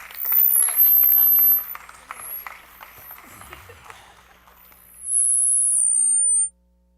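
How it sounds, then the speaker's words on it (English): Audience applause at an IT industry forum keynote, a dense burst of clapping at the start that thins into scattered claps, then a second short swell of clapping near the end, with quiet murmuring between. "Round of applause for both Kehoe."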